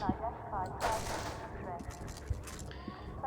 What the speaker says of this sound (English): Those guys start shooting at me